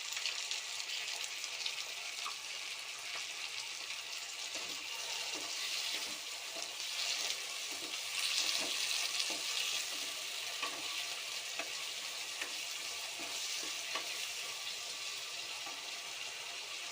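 Chopped onions and tomatoes fry in a pan, with a steady soft sizzle broken by scattered crackles and occasional stirring scrapes, close and fairly quiet.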